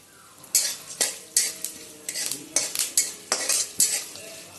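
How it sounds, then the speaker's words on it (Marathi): Chana dal and urad dal roast in a pan for South Indian rava upma, with a spoon scraping and clanking against the metal in a quick repeated rhythm over a light sizzle. "एक चमचा उडदाची डाळ भाजून घ्यायची व्यवस्थित"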